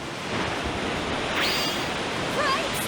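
Rushing water in the video game Yggdra Union, a steady broadband roar like surf or a torrent that holds even and loud throughout, with faint high chirps over it.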